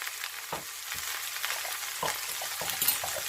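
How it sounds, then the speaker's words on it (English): Garlic goes into a pan of frying mushrooms with a steady quiet sizzle and several soft stirring knocks, close by, with no voices. "I'm going to go in with some lazy garlic."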